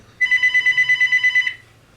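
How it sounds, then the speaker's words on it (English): A telephone rings in the background of a home crochet tutorial, with a fast trilling electronic bell that pulses steadily for over a second and then stops, loud and alone without speech. "Oops, sorry, phone in the background."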